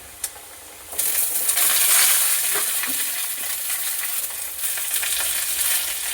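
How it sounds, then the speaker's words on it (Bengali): Drumsticks (moringa pods) dropped into potatoes frying in oil: a short clatter, then a loud burst of sizzling that keeps going with scattered pops and stirring knocks, no talking. "আলুগুলো ভাজা হয়ে গেছে, এর মধ্যে এবার দিয়ে দিচ্ছি সজনে ডাঁটাগুলো।"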